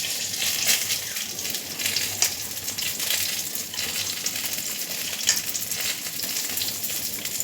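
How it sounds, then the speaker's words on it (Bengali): Raw mustard oil sizzles and spits steadily in a pan while cooking sorshe ilish, the Bengali mustard hilsa fish dish, with a continuous close frying hiss and a few sharper crackles. "তেলটা ওখানে আবার একটু কাঁচা তেল দিচ্ছে, কাঁচা সর্ষের তেল।"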